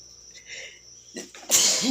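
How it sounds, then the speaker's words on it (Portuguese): A woman's single sudden sneeze bursts out loud and close near the end, preceded by quiet breathy sounds as it builds. "Ai, tô querendo espirrar."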